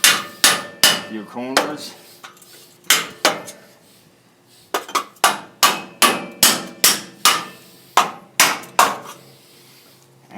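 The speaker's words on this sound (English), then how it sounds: "It's a pretty flat chisel. You just want to stick it in there all the way around" A flat chisel struck by a hammer around a front u-joint on a 2007 Dodge Ram 2500 4x4, sharp ringing metallic blows in quick bursts, close and loud, with a brief spoken remark.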